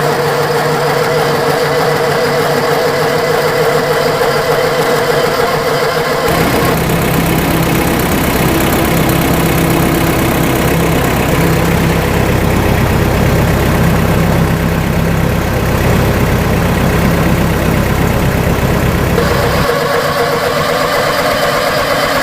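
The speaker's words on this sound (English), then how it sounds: "single-cylinder engine, coughs to life with a smoky, cold start after sitting in a shed for a decade." An old single-cylinder diesel engine, long stored in a shed, coughs into a cold start and settles into a steady, loud chugging idle that runs most of the clip before cutting back to quieter background.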